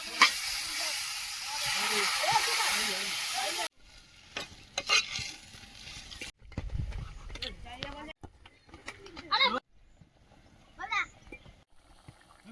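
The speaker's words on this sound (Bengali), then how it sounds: "ডিমগুলো খুন্তি দিয়ে এরকম করে একটু ফাটিয়ে ফাটিয়ে দেবো" Eggs fry in a curry while a spatula (khunti) breaks and scrapes at them, giving loud sizzling and scraping in several bursts between pauses. A voice speaks over parts of it.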